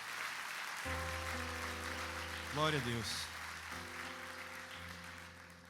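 A congregation claps softly during a church sermon, a faint, continuous patter under sustained organ-like chords, with a voice calling out in the middle.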